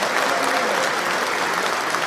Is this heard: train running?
no